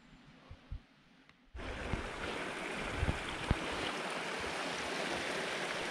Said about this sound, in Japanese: 下に滝があるので滝の音が聞こえてきますけど